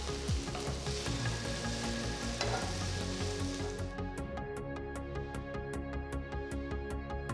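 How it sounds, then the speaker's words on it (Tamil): Onions and green chillies sautéing in a hot kadai for chicken tikka biryani, a steady close sizzle and crackle of frying throughout, with no voice. "வெங்காயம், பச்சை மிளகாயை 3-4 நிமிஷத்துக்கு நல்லா வதக்குங்க."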